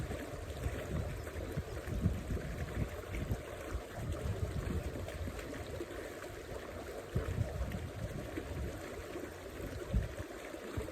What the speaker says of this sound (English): Extremely peaceful listening to this waterfall.